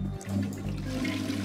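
A toilet in The Darkside Detective swirls and gurgles with water, a steady close rushing flush with low hum under it, no talk.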